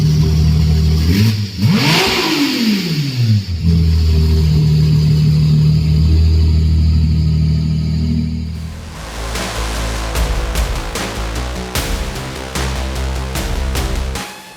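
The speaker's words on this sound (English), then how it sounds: "It's a V6, but it sounds like a V12." A Ferrari V6 with equal-length headers and exhaust sound piped into the cabin revs loudly and close, rising and falling sharply, then settles into a rapid, crackling high-revving run, with no talking.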